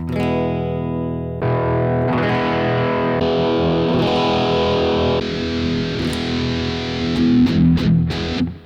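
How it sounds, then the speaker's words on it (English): Electric guitar chords ring out through a Boss GT-100 multi-effects unit as patches are switched, the tone shifting abruptly several times from clean to heavily distorted and chorused sounds. "as I select different patches, you're going to hear the guitar sound change probably pretty dramatically"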